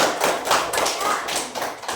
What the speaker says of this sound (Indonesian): Bagus, tepuk tangannya mana?